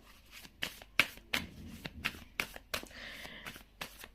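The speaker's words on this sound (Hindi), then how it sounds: "ये बहुत सुंदर डेक है, इसे कार्ड देखेंगे क्या आया है" A tarot deck is shuffled by hand up close, a run of crisp, rapid riffling flicks and snaps in quick irregular bursts, quiet and alone.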